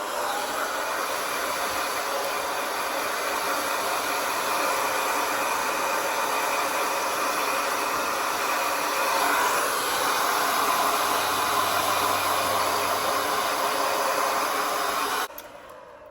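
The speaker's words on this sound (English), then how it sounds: "So I'm going to go ahead and forward through my hair drying," A hair dryer blows continuously on hair, a steady close whooshing roar held for the whole stretch before cutting off abruptly near the end.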